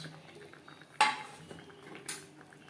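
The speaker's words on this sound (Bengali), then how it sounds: "এবার দিয়ে দেব ভেজে রাখা মাছ।" Fried khoria fish goes into a pan of simmering gravy with eggplant. Two sharp metallic clanks of utensil against pan come over a quiet background, and nothing else stands out.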